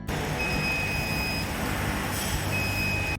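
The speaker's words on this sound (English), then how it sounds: "When the temperature reaches 90 degrees Celsius, the buzzer alarms." A DC 600XD water cooling system cleaning machine sounds its buzzer alarm at 90 degrees Celsius: a steady, high electronic tone that cuts in and out over constant loud machine hum.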